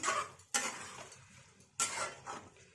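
Malabar spinach (pui shak) curry being stirred in a pan over a raised flame, with two sharp scraping bursts of the utensil against the pan and quieter shuffling of the greens between them.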